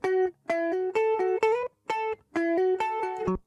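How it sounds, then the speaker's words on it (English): Raw second guitar track recorded in a studio, a clean, dry sequence of plucked notes and short phrases with brief silent gaps between them, bending slightly in pitch, heard alone and fairly close. "And then guitar 2, Rosh. This is the color, right"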